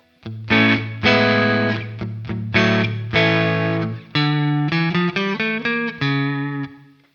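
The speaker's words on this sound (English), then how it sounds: "Overdrive." Electric guitar with overdrive playing a short sequence of crunchy chords and notes, each strum ringing out before the next, loud and close.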